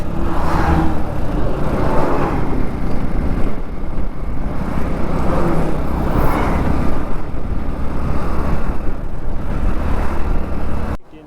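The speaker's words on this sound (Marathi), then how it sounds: "एका मागोमाग एक आर्मीवाल्यांच्या गाड्या चालू आहेत" Army trucks roll past one after another on a road in Ladakh, making a loud continuous engine rumble that swells and fades as each vehicle goes by, close and with no voices.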